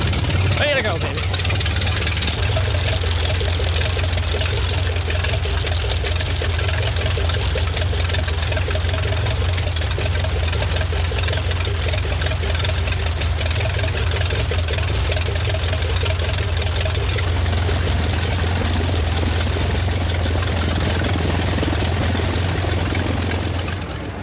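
A propeller aircraft engine runs just after start-up with a loud, steady droning rumble and a rattling, throbbing tone that holds throughout, while people talk over it.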